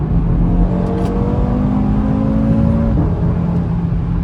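An Audi RS3 running a 034Motorsport stage 1 ECU and TCU tune accelerates, its engine note droning steadily from inside the car with a rising, sustained whir and no voices.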